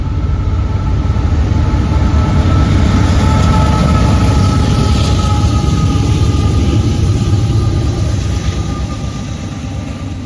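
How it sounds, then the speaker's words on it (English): An intermodal freight train rolls past close by, a loud, continuous rumble and clatter of wagons and wheels that holds steady throughout, with no talking. "That's an intermodal, that's an IM."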